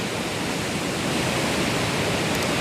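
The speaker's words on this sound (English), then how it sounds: "it's creating this awesome cascade on the left-hand side of the falls" Waterfall cascade with low water level, a continuous, even roar of falling water, close and fairly loud with no other sounds.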